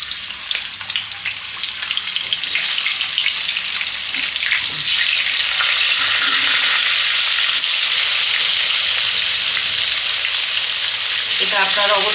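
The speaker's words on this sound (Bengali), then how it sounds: "তেলটা আমার গরম হয়ে গেছে, হলুদ দিলাম। এবার আমি একটু আলুটা ভেজে নেব।" Potatoes frying in hot oil with turmeric give a steady, loud close-up sizzle, with faint stirring scrapes and no talking.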